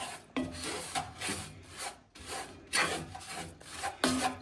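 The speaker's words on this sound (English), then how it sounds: "2 cups of brown sugar delivered. And slowly stirring that in." A spoon scrapes and rubs through a thick fudge mixture as brown sugar is slowly stirred in, giving steady, raspy strokes in uneven bursts, close up and with no talking.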